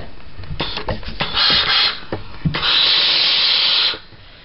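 A steam iron presses open a stitched seam on a fabric collar stand, giving bursts of hissing steam with soft rubbing and thumps in the first half, then a long steady close hiss of nearly 1.5 seconds before it cuts off.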